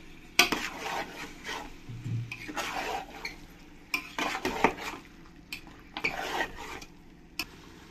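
Chicken stir-fried in spice paste in a pot for biryani: a spoon scrapes and clanks against the metal in uneven bursts, with a soft sizzle running underneath, heard close up.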